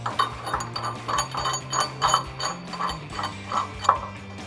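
A hand ratchet drives a bolt into the D-ring bracket of a Barricade Trail Runner rear bumper on a Jeep Wrangler JL, giving close, repeated clicking bursts in an uneven rhythm with no voices.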